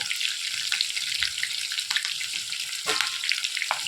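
Chicken kabab pieces frying in hot oil with curry leaves added, a steady loud sizzle and crackle running throughout with occasional spattering bursts, close up and with no talking.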